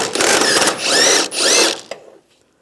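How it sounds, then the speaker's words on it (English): A ratchet with a 16mm socket works on the side transmission mount bolts of a 1998-2010 Volkswagen Beetle, giving close, loud whirring clicks in three quick bursts before stopping with a faint clink. "the 2 bolts on the side, we're going to use a 16mm socket."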